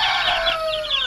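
Naked-neck chickens at a backyard flock give a short, close, fairly loud call with bright wavering tones, blending crowing and clucking over a quiet background.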